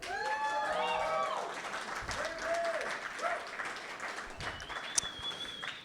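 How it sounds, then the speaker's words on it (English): Applause fills a Seattle school board meeting with a dense, steady patter of clapping. Voices and some whoops rise over it, and a sharp clap stands out near the end. "You can definitely clap for that."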